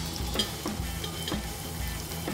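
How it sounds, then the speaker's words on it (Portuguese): Shrimp frying with bacon and pepper in olive oil, a continuous crackling sizzle with small pops and a low rumble from the pan, no voices. "Vamos fritar o camarão."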